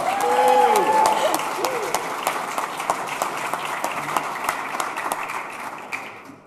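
A church congregation at a Sunday service claps steadily, with sharp claps over a continuous wash of applause and a voice speaking over the start.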